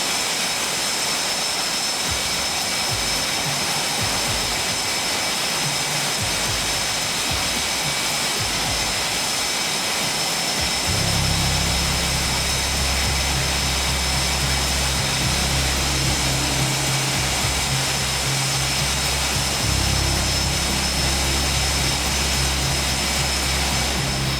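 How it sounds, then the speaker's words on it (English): Blue Angels jets taxiing in tight formation in DCS World, a steady loud jet engine roar and whine, with a deeper rumble building about halfway through as the engines swell. "The DCS World Blue Angels taxi in tight formation,"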